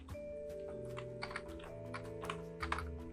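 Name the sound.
typing code on a computer keyboard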